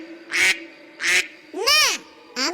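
Ducks in a duck house at night, four loud close raspy quacks in quick succession, each a short harsh burst.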